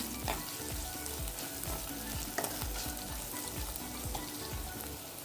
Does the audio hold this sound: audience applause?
no